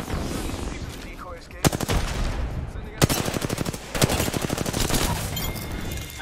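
Automatic weapon fire in the Apex Legends video game: rapid bursts of close, loud gunshots in several volleys separated by brief pauses, with faint game ambience between them.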